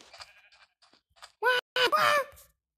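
Sheep in a Minecraft-style game bleat, with a couple of loud, wavering cries following faint scattered game sounds.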